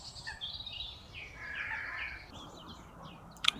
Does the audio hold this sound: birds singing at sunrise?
yes